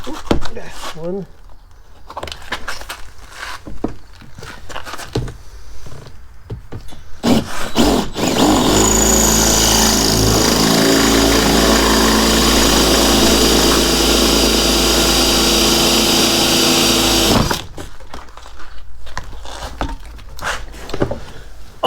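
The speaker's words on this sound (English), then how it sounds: "just like the other side, we gotta drill the tops off of those" Drill bit grinding into spot welds on a 1988-98 Chevy Silverado cab corner during a rocker panel replacement, one long loud continuous run of about nine seconds, close, with someone talking before and after.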